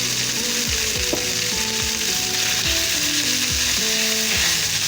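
Olive oil sizzling in a pan while Greek moussaka ingredients fry, a steady loud crackling hiss up close with faint scraping and stirring underneath and no voices.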